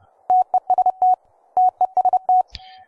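Keyboard-sent Morse code sidetone: clean, steady pitched beeps forming short and long elements in two quick groups, ending with a brief click and a faint trailing tone.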